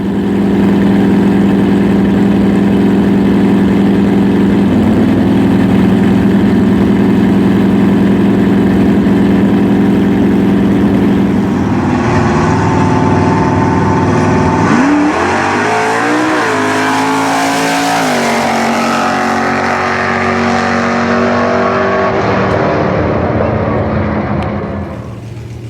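A 1967 Ford Fairlane drag car with a 427 engine at a nostalgia drag racing event, rumbling loud and steady at idle before revving up hard, pitch rising and wavering, with crowd-like background noise throughout.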